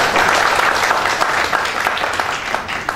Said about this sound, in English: Can we give a big clap to him?